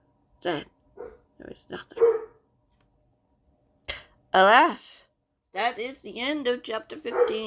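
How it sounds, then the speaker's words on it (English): Rosie the dog barks while playing, giving a few short yips and woofs in the background beneath a person's steady narration. "Apologies for the doggo barking"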